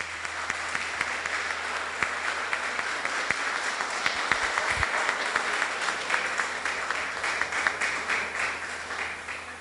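A church congregation claps at length for fellow members, the dense applause spread evenly across the whole stretch at a steady moderate level.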